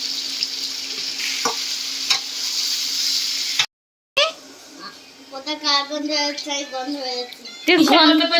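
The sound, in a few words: sautéing fried potato, pointed gourd and egg in spices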